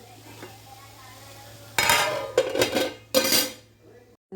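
Vegetables for a dondakai, vankai and tomato pachadi (ivy gourd, brinjal, tomato) stirred in a frying pan: a quiet low hum first, then close bursts of scraping, clinking utensil strokes through the middle, with no talking.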